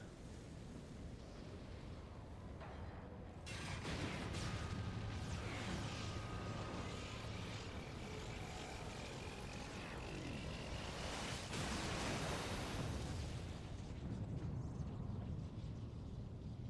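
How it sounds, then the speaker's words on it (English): A boss explodes in a Final Fantasy XIV story dungeon, The Praetorium, as a sustained roar of game audio with rumbling booms and bursts that swell around the middle and late parts. "And a pretty explosion."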